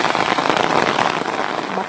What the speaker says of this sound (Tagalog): medyo malakas ng ulan